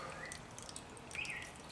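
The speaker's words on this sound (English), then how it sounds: "I'm just dripping it in right there, dripping it into the little pump stream." Gold concentrates drip slowly from a spoon into the small pump stream of a Gold Miser micro sluice during a cons clean-up, making soft, faint watery drips and trickles over a constant low flow of water.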